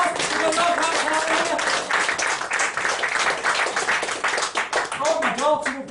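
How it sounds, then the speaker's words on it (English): A live comedy show audience claps steadily, a dense wash of many hands, with voices talking over the applause throughout. "Give it a round of applause."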